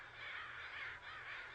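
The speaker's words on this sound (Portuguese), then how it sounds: "Os corvos têm um sistema de comunicação muito rico" Two raspy crow caws sound in close succession, each a harsh, rough call of moderate loudness standing alone.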